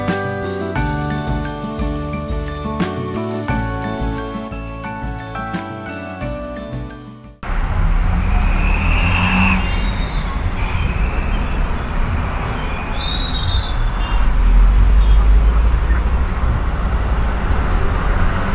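Vehicle driving along Nepal's Mahendra Highway, steady loud road rumble and wind noise with passing traffic, following a short stretch of music at the start.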